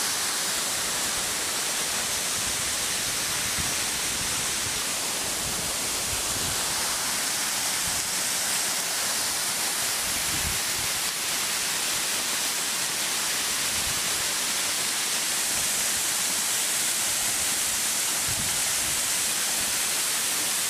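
Water pours heavily from a spring spout at Bica do Pinga in São Gonçalo, Ipueiras, Ceará, a loud and steady rushing splash close by that runs unbroken for about twenty seconds with no voices.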